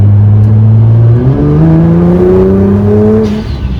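A Nissan GT-R engine at light throttle while driving, heard from inside the car: a loud, close, steady drone whose pitch climbs smoothly as it accelerates, then eases slightly at the end.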